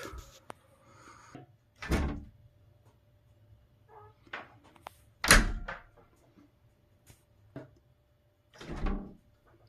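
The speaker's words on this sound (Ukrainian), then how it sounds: "двічі вже відкрили і закрили двері" An interior door fitted with ball latches is opened and closed twice, giving several sharp knocks and thuds with latch clicks separated by quiet pauses, close and clear without talk.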